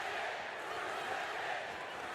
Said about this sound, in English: We also hear a familiar chant from the crowd.